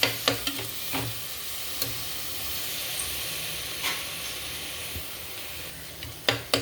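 Masala and yogurt get stirred into chicken biryani in a pot amid a steady sizzling hiss, with a few close, sharp spoon knocks against the vessel at the start and end.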